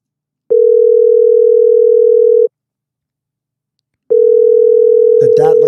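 A telephone dial tone hums as a call connects, a loud steady pure tone that runs for two seconds, stops briefly, then resumes as a voice begins speaking over it.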